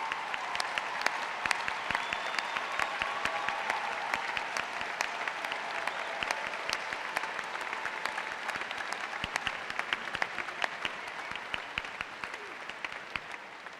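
A large commencement audience applauds veterans in the crowd, a sustained, even roar of many hands clapping at once that holds steady from start to finish.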